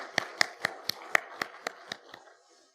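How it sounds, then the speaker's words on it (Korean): A church congregation claps at a Korean Methodist Thanksgiving Sunday worship service: about nine sharp, evenly spaced claps in unison that soften and fade out, with no talking. "박수해 주시기 바랍니다."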